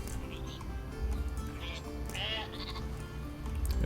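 Sheep in the strategy game Northgard bleat a couple of times over steady game background noise, each call short and wavering, heard without talk.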